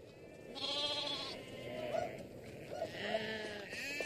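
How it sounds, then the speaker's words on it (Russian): Spotted sheep in a flock bleat in a biblical-era outdoor setting: several overlapping, wavering bleats, some drawn out and some short, moderately close over a low murmur of background sound. "Эти овцы с пятнами, они принадлежат Иакову."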